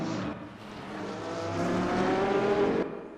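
Corvette race car at the Mount Panorama circuit, a loud engine climbing in pitch as it accelerates, then cutting off abruptly near the end, with no talking.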